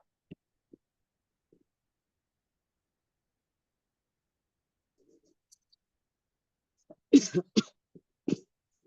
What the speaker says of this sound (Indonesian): batuk dari kemarin